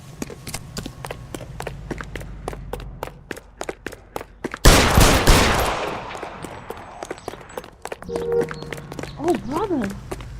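Rapid gunshots crack in a fast, even string in the video game L.A. Noire, followed by a loud burst of noise and then scattered sounds, with a voice speaking over parts of it.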